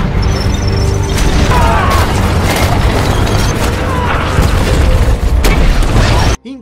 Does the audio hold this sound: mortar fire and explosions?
yes